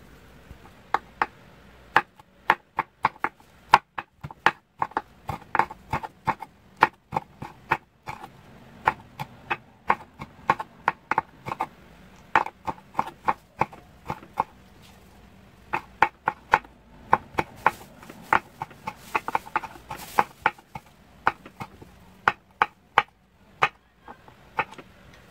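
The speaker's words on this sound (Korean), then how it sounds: "홍고추 한 개, 잘게 다져줄 겁니다." A knife finely mincing a red chili pepper on a cutting board, rapid irregular sharp taps in quick bursts for a long stretch, close and fairly quiet, no talking.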